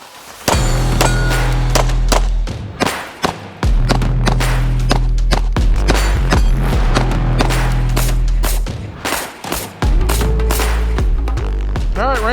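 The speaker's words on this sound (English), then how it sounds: "We're just gonna fire 2 shots into each target, transition back and forth." A Lone Wolf Dusk 19 pistol fires at steel and USPSA targets on a range in a rapid series of sharp, loud shots with short pauses between strings. A voice is heard briefly at the end.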